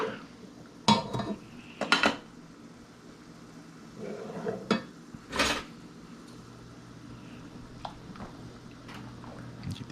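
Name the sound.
stirring pasta in a pot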